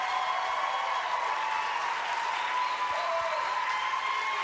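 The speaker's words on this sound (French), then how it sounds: "C'est pour toi, ces applaudissements-là." Studio audience applause on a Quebec reality show set, a steady, even clapping that fills the room and holds at a constant level throughout, with no voices over it.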